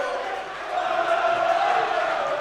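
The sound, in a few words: basketball crowd on their feet cheering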